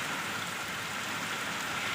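Steady, dense hiss of rain pouring down on a maize field, close and continuous with no breaks.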